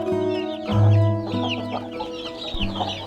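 A hen clucks among her newly hatched Sussex chicks, with repeated low clucks and a thin chorus of high peeping chirps close by, one louder clucking burst standing out.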